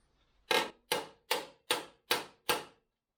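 Six evenly spaced hammer taps strike a VW Beetle door panel at a tack weld during a rusty door-bottom repair, each sharp and close, ringing briefly, then silence.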